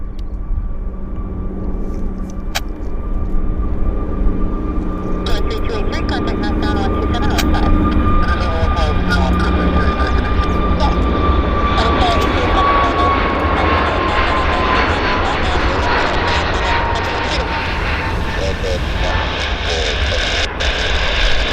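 An Embraer jet airliner takes off and climbs at Vancouver airport, its engines a loud, sustained roar with a rising whine. Someone talks over it throughout.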